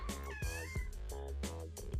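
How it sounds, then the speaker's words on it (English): A pet cat meows loudly, giving a few drawn-out, wavering calls in quick succession over a steady low background hum. "My cat's very loud"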